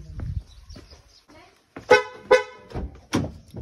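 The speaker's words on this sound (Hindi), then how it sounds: "हॉर्न सुन के एकदम से एक्टिवेट हो जाती है वो" A car horn honks in several short, loud toots near a home, with muffled voices in between.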